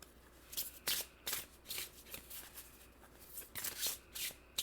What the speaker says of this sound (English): So I'm going to start by pulling a card from the Priestess Light Oracle.